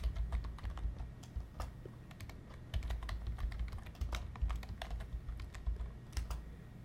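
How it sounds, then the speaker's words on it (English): Steady typing on a computer keyboard enters text into spreadsheet cells, with quick, fairly quiet, irregular key clicks running throughout against a low background hum and no talking. "you can directly type into the cell as you saw I just did"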